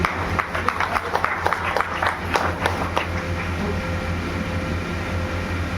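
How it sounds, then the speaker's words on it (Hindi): A political gathering audience gives a short burst of scattered clapping that fades after a few seconds into a steady hum of room noise with low voices. "जोरदार तालियों से अभिनंदन करिए।"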